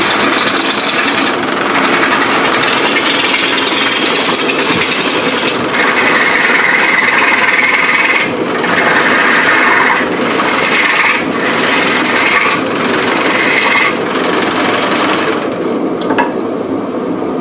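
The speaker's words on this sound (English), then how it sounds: "stand aside of the lathe when you turn it on, because a lot of times it's not going to run perfectly through" A wood lathe spins a box blank for a Beads of Courage box, giving a steady loud whirring hum with a rough rasping tool-on-wood scrape that swells and breaks into repeated bursts as the piece is cut.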